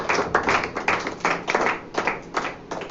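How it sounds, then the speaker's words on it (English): A church congregation claps hands during a Sunday service, loud and close with rhythmic bursts of many hands beating roughly in time, the pulses repeating steadily throughout. "Clap your hands for Jesus."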